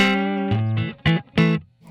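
An electric guitar run through a Line 6 Helix full British-style amp model plays a sustained, harmonically rich chord followed by a few short, punchy strummed stabs, loud and up close with no voices.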